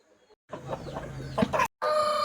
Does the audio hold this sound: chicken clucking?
yes